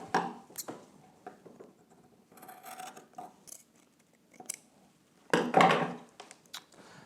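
Scissors cut the seam allowance off a dress shirt in sparse, close snips and fabric rustles, ending in a louder burst of cutting near the end.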